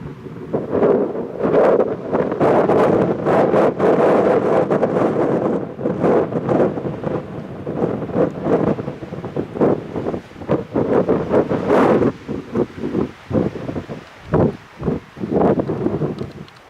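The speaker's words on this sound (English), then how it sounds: "Getting a little windy now, so apologize for any excess noise." Gusty wind buffets the microphone in loud, roaring rushes that rise and fall unevenly, with no voices, outdoors at Caprock Canyon State Park.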